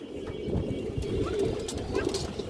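Pigeons cooing in a loft of birds kept for sale. The low, throaty coos sound close and run continuously with no pauses, and no voices are heard.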